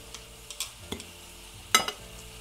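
Food sizzling on a raclette grill at a New Year's meal, stirred around in a few quick scraping clicks over a steady low hiss, close and without talk.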